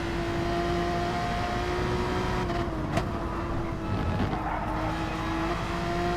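A racing car engine in the video game Gran Turismo, during an online league race, holds a steady high drone with tonal harmonics, shifting pitch slightly as it lifts off and picks back up, loud and continuous.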